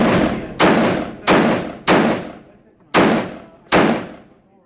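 Six sharp, loud gunshots ring out one after another at an indoor shooting range, each with a booming echo that decays before the next, spaced roughly a second apart.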